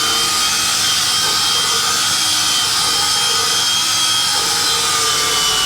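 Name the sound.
scrubbing and extracting car seats with an upholstery extractor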